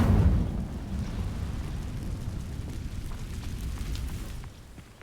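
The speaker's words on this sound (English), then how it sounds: "These dry vines are one spark away from becoming kindling. Incendio!" An Incendio fire spell in Hogwarts Legacy igniting dry vines, a burst of flame at the start followed by a steady crackling, rushing roar of burning that slowly fades.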